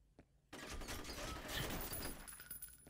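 Gunfire in the video game F.E.A.R. erupts after a short quiet lead-in as a dense, sustained burst of rapid shots that stays close and loud before trailing off slightly.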